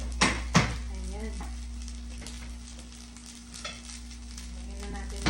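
Fried rice stir-fried in a pan over high heat, a steady sizzle with a few sharp clanks of a utensil against the pan, while a voice briefly speaks over it.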